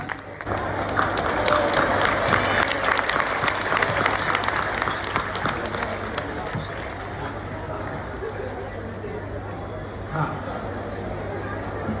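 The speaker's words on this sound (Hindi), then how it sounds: "और जोरदार तालियों की गड़गड़ाहट के साथ पूज्य गुरुदेव भगवान का बहुत बहुत स्वागत" Loud, sustained applause from a big crowd in a Jaipur stadium welcoming a guru, dense clapping and cheering that fills the space steadily with a faint hum underneath, while a voice speaks over the crowd.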